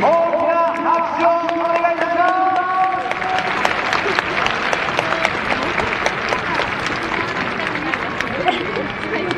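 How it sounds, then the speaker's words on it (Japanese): Loud stadium crowd applause after a ceremonial first pitch at a baseball game, clapping and cheering swelling into a dense roar as music fades out in the opening seconds. "クリアさんに大きな拍手を"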